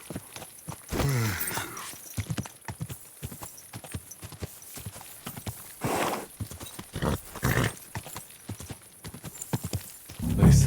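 Spectral horse in the video game Kingdom Come: Deliverance 2 clip-clops along in loud, irregular hoofbeats close by, with a brief whinny near the start and a louder burst at the end.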